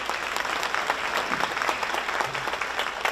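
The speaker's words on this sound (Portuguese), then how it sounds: "E aplausos." Audience applause at an award ceremony at the Centro de Cultura Camilo de Jesus Lima in Vitória da Conquista, where honorees receive citizenship titles; steady, dense clapping from a sizable crowd throughout, without speech.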